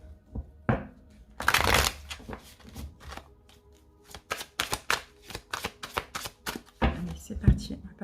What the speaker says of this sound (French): on va mettre les cartes pour l'autre